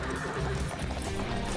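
Horse neighing with hooves clip-clopping, loud and continuous with a busy, dense mix, from an Indonesian-dubbed Power Rangers Samurai action scene.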